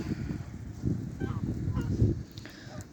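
Several geese honk repeatedly in a rough, overlapping chorus nearby in a farmyard with chickens and ducks, the harsh calls coming in quick bursts for a few seconds.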